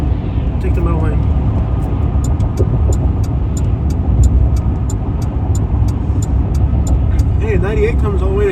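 A car drives through Beaumont, Texas, its steady engine and road rumble continuous and loud, with faint regular ticking and people talking over it.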